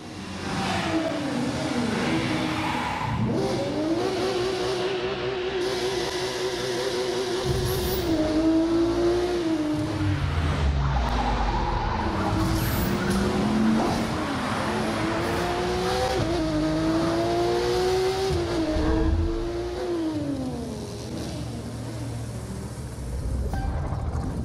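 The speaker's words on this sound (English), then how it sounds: "street racers prove their skills, skidding on rooftops, burning asphalt, and tuning their rides" Street racing cars in The Crew 2 video game rev, accelerate and skid through a city, engines rising and falling in pitch with tire squeals, loud and continuous with no talk.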